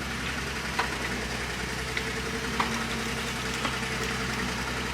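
A vintage Austin-Healey engine idles steadily on a lift, a low continuous rumble with a few faint knocks and clicks, no talking.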